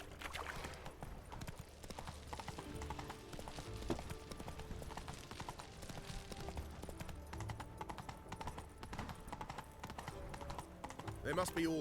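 In The Witcher 3, Roach the horse clops along with a steady trotting hoof rhythm under game music and ambience, while someone talks over it.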